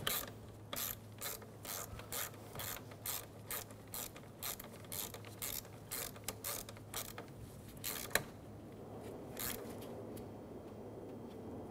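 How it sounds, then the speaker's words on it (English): A ratchet snugs down a nut during MAP sensor work on a 2012-2020 Chevrolet Sonic 1.8L, giving a quick, regular series of close, crisp clicks that run in bursts and then slow to a few final clicks. "Snug down the nut."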